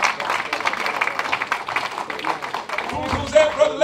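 An audience claps in a dense, lively round of applause with scattered individual hand claps, joined near the end by a voice and a brief whistle-like tone.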